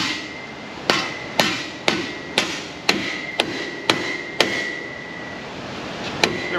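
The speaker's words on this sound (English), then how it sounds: "give it a couple whacks with the mallet to drive the O-ring seal in" Mallet whacks driving a hub O-ring seal into a Ford F250/F350 6.7 truck: about ten sharp, ringing metallic strikes in a steady rhythm, loud and close with no talk.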